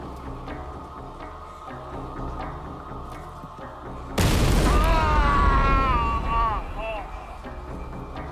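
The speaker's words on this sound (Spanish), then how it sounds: "La explosión lo hirió de gravedad y le arrancó los dedos" A bomb goes off in a university computer department's coffee room, a sudden loud boom with a rumbling tail after a few seconds of quiet background, under a voice speaking.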